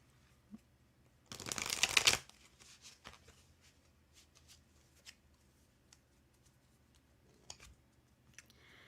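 Tarot cards being shuffled by hand, one brief, loud riffling burst near the start, followed by scattered soft taps and handling sounds in a quiet room.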